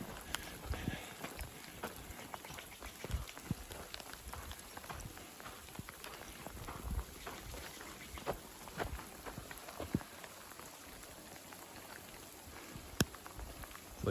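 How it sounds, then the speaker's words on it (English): Rain patters on a hiking trail near Lake Tahoe with scattered, irregular drops and taps over several seconds, quiet and close, in a faint outdoor hush. "I can't believe it is raining."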